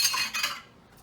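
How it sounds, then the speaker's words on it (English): A metal spoon clinks and scrapes against a pot while thickener is stirred into a stew, a quick burst of close clattering that fades into quiet. "I'm going to pour it in and stir it in"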